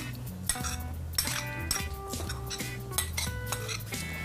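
Prawns slide off a plate into a bowl amid a busy run of ringing clinks and knocks of crockery and cutlery, close and fairly loud; no talking.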